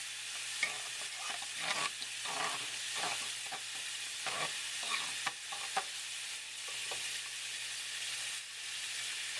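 A spoon stirs lasagna sauce in a pan, mixing it through with a steady run of soft scrapes and wet clicks over a constant sizzling hiss from the heat, close and moderately loud.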